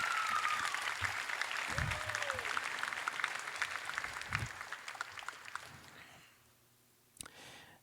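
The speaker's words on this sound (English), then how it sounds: "Round of applause for Mrs." A school class night awards ceremony crowd gives the principal a round of applause: dense, steady clapping that thins and fades out after about six seconds, followed by one brief clack.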